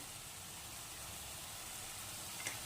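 Spice paste, with turmeric, salt and chilli powder stirred in, fries in a pan for a Bengali katla fish curry, giving a steady faint sizzle and hiss with one small clink near the end.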